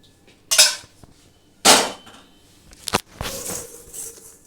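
Several sharp clatters of a utensil against a bowl as milk is mixed into a pithe batter, with separated knocks and short scraping bursts, close and fairly loud, no talking.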